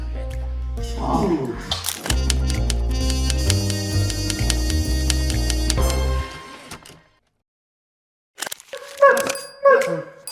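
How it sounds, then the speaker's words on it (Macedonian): Loud music plays and then cuts off. After a short silence, a dog gives a few sharp barks nearby. "зашто ми лаја куче, бе"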